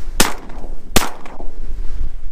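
Two loud, close shotgun blasts fired at mallard ducks over a farm pond, the first followed by the second under a second later, each decaying with a short echo and a fainter report after.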